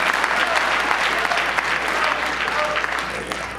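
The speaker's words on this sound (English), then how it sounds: "long applause really just eats into the next speaker's time" An audience at a public hearing applauds steadily and loudly for the whole stretch, a dense wash of many clapping hands with faint voices mixed in.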